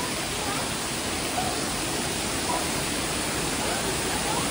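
Steady rushing water, dense and constant like a stream or small waterfall close by, with no breaks over the few seconds, at a picnic spot in the Philippines.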